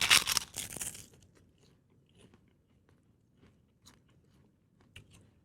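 Crisp crunching bites into raw vegetables with onions, loud at the start and then fading into quieter, sporadic chewing with small crackles.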